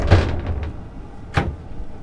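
A hanging locker door in a cabin aboard a 2008 Benetti Classic 121 superyacht opens with a soft knock and rattle, followed a moment later by a single sharp clack, close by in a quiet room.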